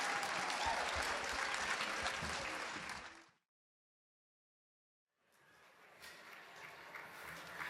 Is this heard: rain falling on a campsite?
no